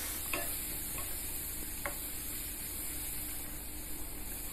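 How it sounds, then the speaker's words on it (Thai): Bamboo shoots sizzling and stir-frying in a pan, with a few scattered clicks of stirring over a steady hiss. "ผัดไปจนกว่าน้ำไม้จะนิ่มดี"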